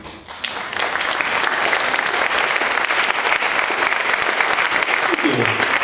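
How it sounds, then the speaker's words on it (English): Audience applause fills the room after a literary reading, a steady dense wash of many hands clapping that starts abruptly and holds loud throughout, with a brief voice surfacing near the end. "You didn't have to clap."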